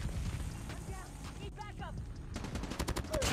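Rapid automatic fire from a Damascus-camo HVK assault rifle in Call of Duty Mobile, dense crackling bursts running throughout, growing brighter and sharper toward the end, with game effects mixed in.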